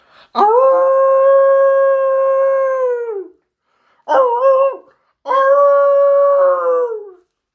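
A voice imitates a wolf howl in the style of horror-movie werewolves: a long sustained howl, a short broken one, then a third drawn-out howl, loud and close with no other sound.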